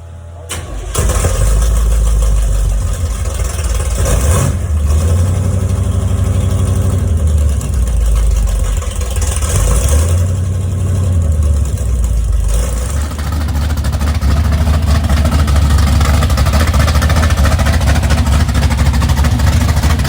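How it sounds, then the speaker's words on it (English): A 1984 Chevrolet Monte Carlo engine cranks and starts, then idles loud and close with a couple of revs, settling into a steady rumble with no talking. "just the difference in the motors and how they sound compared to what they used to sound like"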